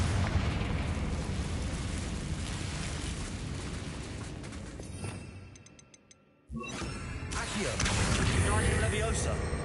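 Confringo blasting spell in Hogwarts Legacy, a broad roaring explosion that sustains and fades into near silence, then a second sharp blast erupts and rumbles on.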